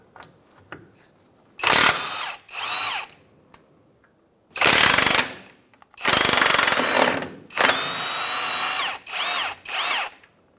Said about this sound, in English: So we'll go ahead and remove those bolts now.